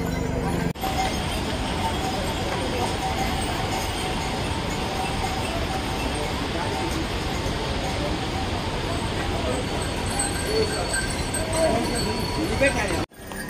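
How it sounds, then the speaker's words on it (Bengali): Horses walk the Kedarnath pilgrimage trail, their hooves clopping faintly beneath a dense wash of crowd babble and outdoor noise that holds steady for most of the stretch. "আর দেখো সমস্ত ঘোড়াগুলো এই রাস্তা দিয়ে ঘুরে ঘুরে যাচ্ছে।"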